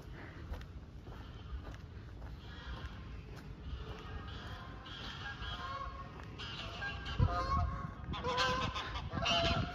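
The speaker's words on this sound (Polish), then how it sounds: "Lecą kaczki." Several ducks honk and call overhead in Rotterdam, fairly close, with the calls growing louder toward the end over steady outdoor background noise.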